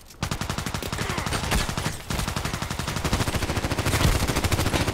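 Rapid automatic SCAR-L rifle fire in the shooter game ADXsniper, a steady loud stream of closely spaced shots running almost the whole time with one brief pause near the start of the burst.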